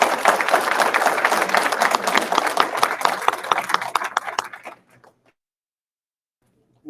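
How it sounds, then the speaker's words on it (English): Audience applause for the election candidates at a public candidate event. Dense, steady clapping from a crowd runs for almost five seconds, then stops abruptly into near silence. "I ask right now that you give them all a round of applause"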